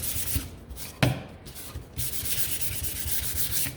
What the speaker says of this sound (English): I'm just gonna sand it